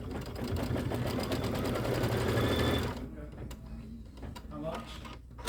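A sewing machine runs steadily for about three seconds, stitching a pieced quilt star block, then stops and leaves quiet room noise and faint voices.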